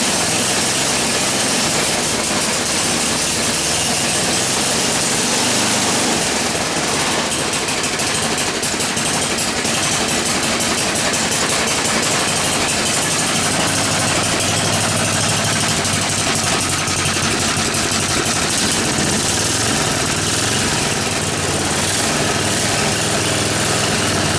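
A snowblower engine running on a workbench after a broken magneto mount repair, idling steadily and loudly with a constant rough vibration for the whole stretch and no talk over it.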